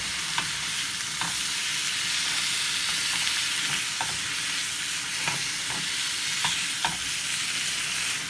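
Tomatoes fry in a pan with a steady bright sizzle, while a utensil scrapes and stirs in soft, irregular strokes, close and alone with no talk.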